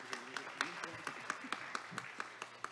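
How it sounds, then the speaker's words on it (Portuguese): Scattered clapping at a solemn legislative assembly session, following a performance by a military police male choir; sharp claps in a steady, fairly regular rhythm with a faint murmur of voices underneath. "Uma salva de palmas."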